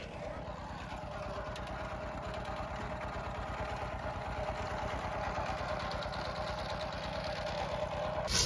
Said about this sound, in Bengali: ইট তৈরির জন্য যে কাদামাটি প্রয়োজন হয় সেটা আসলে এখানে মেশিনের মাধ্যমে তৈরি করা হচ্ছে